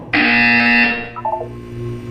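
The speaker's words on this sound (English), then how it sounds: "You will hear a buzzer." A loud, harsh electronic buzzer in the Portal 2 video game blares for nearly a second and then cuts off, leaving a few fainter beeping tones and a low hum behind it.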